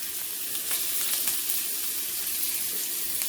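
Ingredients for vegan imitation barbecue pulled pork sizzle and fry in about three tablespoons of oil in a pan, giving a steady, close, bright crackling hiss with no pauses.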